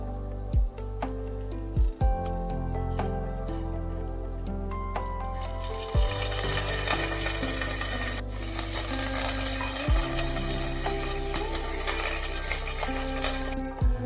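Mustard seeds, cumin and curry leaves hit hot oil for tempering, and a loud hissing sizzle swells about halfway through. Steady tonal sounds run underneath, and no one speaks.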